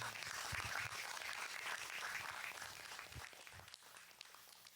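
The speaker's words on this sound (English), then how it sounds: "can we just do a big round of applause for everybody here?" An audience gives a big round of applause to a screen printing panel, a dense, fairly distant wash of clapping that holds steady before thinning out toward the end, with a few scattered footsteps.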